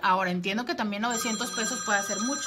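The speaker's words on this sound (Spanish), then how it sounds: "Ese es el teléfono de mi consultorio." An office telephone rings steadily, its electronic tone sounding continuously beneath someone speaking Spanish close to the microphone.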